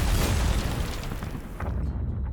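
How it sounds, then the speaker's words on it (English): Explosion sound effects for an edited video boom loudly in a dense, rumbling burst that fades into a lower roar. "the part that I seriously popped off on was the explosions"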